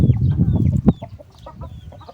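Hens on a cattle farm fighting calves over feed give soft, intermittent clucks nearby, with a brief sharp sound midway over a dense low rumble of activity.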